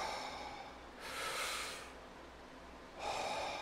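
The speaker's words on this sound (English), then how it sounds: "You do deep breathing" Two deep, airy breaths taken inside a mask fit test hood, each a soft rushing swell separated by a quiet pause, close and faint.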